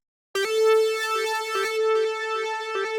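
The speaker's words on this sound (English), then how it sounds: "So I add this super cool lead, something like this." A bright, sustained synth lead plays a simple melody with clean harmonic tones and soft note changes, loud and alone without any voices.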